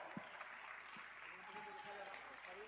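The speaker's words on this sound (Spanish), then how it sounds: "¡Un aplauso!" Applause with a few cheers from the crowd at a song contest as a participant is announced. The clapping is fairly faint and even, with a voice or two heard over it.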